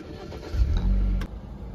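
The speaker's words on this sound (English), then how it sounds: "And crank it, but you have to hit the button while you got your foot on it." Push-button start of a BMW X1 engine, with a short rising crank and catch that settles into a steady low idle, close by and heard alone.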